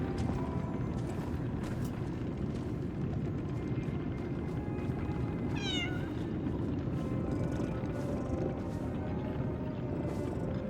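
A cat meows once, a short rising cry in the Lies of P video game, faint and distant over a steady, dense ambient rumble with no talk.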